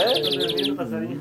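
A shiny cowbird (chupim) chick calls in a series of rapid, high chirps, close and fairly loud, with soft voices and cooing-like tones mixed underneath.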